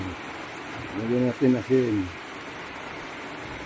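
Steady rain falls throughout, a constant hiss like a downpour on a surface, with a short stretch of nearby talk over it midway.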